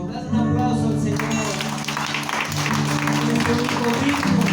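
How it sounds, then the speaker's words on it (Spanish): A church congregation claps along steadily over loud worship music, with the clapping building after the first second and continuing throughout. "Dale un aplauso al Señor."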